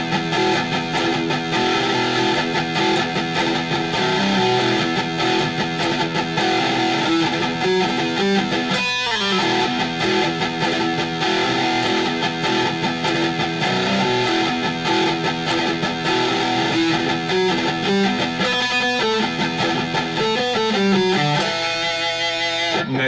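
Heavily distorted metal rhythm guitar riff, driving downstrokes broken by galloping figures, loud and continuous throughout with no talking.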